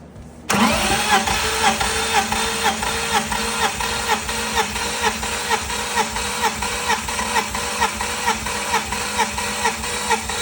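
A BMW engine cranking on the starter during a compression test with the throttle floored and the clutch held in, starting abruptly and repeating in an even, loud, close rhythmic whir of compression strokes without firing.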